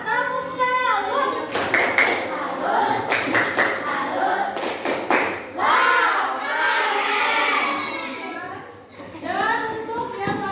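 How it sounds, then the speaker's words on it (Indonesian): Children in a classroom performing a rhythmic tepuk salut group clap, several sharp clustered claps in short bursts mixed with loud chanting voices and chatter. "kita tepuk salut dulu untuk kelompok 4"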